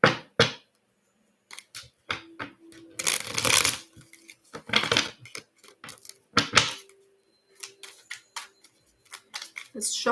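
Cards are shuffled in repeated bursts of riffling and slapping, close and crisp, with short pauses between shuffles.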